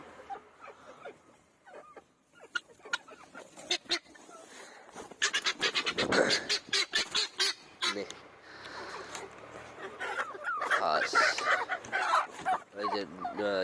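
Silkie chickens and turkeys clucking and calling close by in a backyard pen, a dense run of squawks and clucks with a person talking in between.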